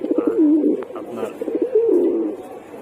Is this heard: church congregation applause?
no